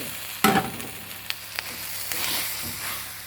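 Marinated pork sizzles steadily in a hot pan for panang curry. A sharp clatter of stirring comes early, then light scrapes over a continuous hiss of frying.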